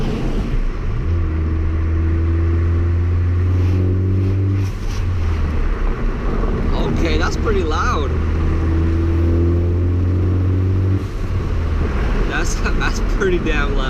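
A 2013–2016 Ford Focus ST fitted with a COBB catback exhaust rumbles loudly from inside the cabin, windows down, as the engine rises and falls under acceleration, with a person talking over the steady drone.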